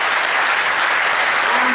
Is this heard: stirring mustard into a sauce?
no